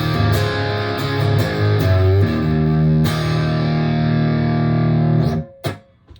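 Electric guitar driven hard through a Revv D20 amplifier, thick sustained distorted chords ringing loud and close for several seconds before cutting off abruptly, with a brief final stab.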